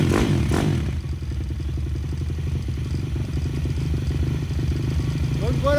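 A new, freshly built 160 KLX two-stroke motorcycle engine, still untuned, kicks over with a couple of heavy thumps, then catches and settles into a fast, steady, buzzing idle with close mechanical clatter.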